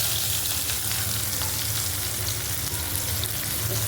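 Onion frying in oil left over from frying fish for a Bengali fish curry, giving a steady, close, loud sizzle that holds evenly throughout with no talking.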